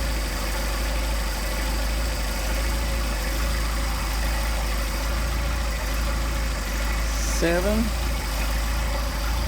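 Mercedes 190SL engine with Solex carburetors idling on a cold start, a steady low running drone throughout, with a person speaking briefly over it near the end.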